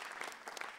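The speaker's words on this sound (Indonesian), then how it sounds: "Tepuk tangan sekali lagi." Brief burst of audience clapping at an Indonesian stand-up comedy show, faint and quick, lasting under a second.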